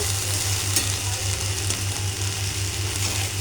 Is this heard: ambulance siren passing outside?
no